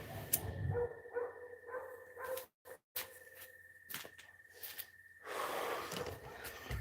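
A dog barks repeatedly somewhere off to the side, each short bark landing over quiet room ambience with gaps between, moderately faint and not close.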